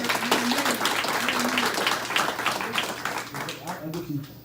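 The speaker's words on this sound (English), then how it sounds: "Give them a round of applause for what you're doing." Applause from a town hall meeting audience, a dense wash of clapping running throughout, with voices talking over and under it.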